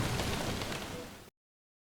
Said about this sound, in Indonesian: hujan yang mengetuk lembut di atap tenda